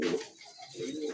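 An Indian Nazrana Kaldam pigeon gives a brief, soft coo, two short murmuring phrases close by at low volume.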